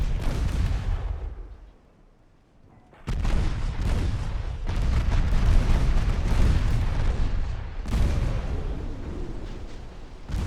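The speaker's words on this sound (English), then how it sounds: "Let's not miss with the torpedoes. There they go." Warships fire torpedoes in the naval game Ultimate Admiral: Dreadnoughts, with loud booming launches and rumbling bursts that drop away into a brief lull before heavy firing resumes.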